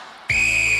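A referee's whistle starts an event on the 1995 International Gladiators show, a single loud, steady shrill blast that cuts in abruptly after a short quiet lead-in and holds to the end.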